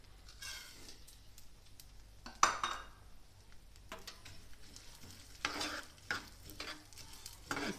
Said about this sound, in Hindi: इनको थोड़ा सा फ्राई कर लें।